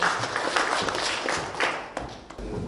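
Audience applause in an event hall as a Korean-Chinese business committee chairman is called up to give a welcome speech at a book launch, a dense patter of clapping that stays steady throughout with no talk over it.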